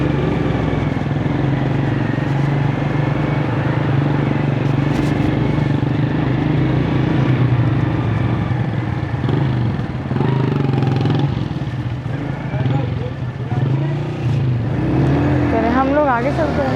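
A 70cc motorcycle drones steadily while riding along a road beside a river, its constant engine hum loud and close, with someone talking over it.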